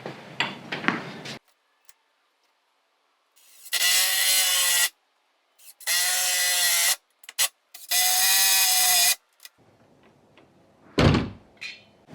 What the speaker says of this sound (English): I'm using an impact driver because it's going to make this work a lot faster.